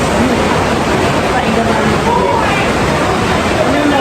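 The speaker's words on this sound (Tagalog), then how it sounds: "Shower ako." A running shower gives a loud, steady hiss of falling water. The spray stays close and unbroken throughout.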